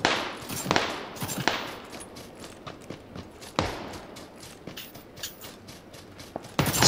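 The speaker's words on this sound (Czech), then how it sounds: "Střílí po mně." Scattered gunshots in the video game PUBG Battlegrounds, several sharp separate cracks at irregular intervals, some nearer and louder, others fainter, over a quiet background.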